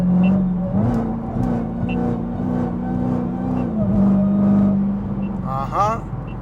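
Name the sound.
Dodge Hellcat engine whine while driving on highway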